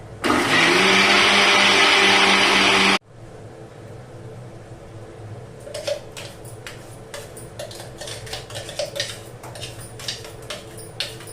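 A loud kitchen mixer grinds masoor and chana dal together for about three seconds, then stops abruptly, leaving scattered clinks and clatter of dishes in a quiet room with no talking.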